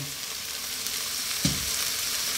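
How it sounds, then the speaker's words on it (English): Prawn pasta in single runny cream with chopped flat-leaf parsley sizzles steadily in a hot pan, with a soft stirring scrape midway through, close and continuous with no talking. "We're going to stir this around, staying on this heat."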